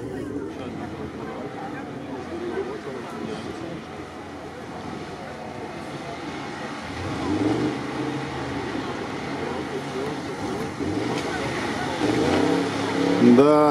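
An off-road prototype racing vehicle accelerates hard during an off-road competition, its engine rising in pitch and loudness near the end over steady rough rumble, with people talking throughout.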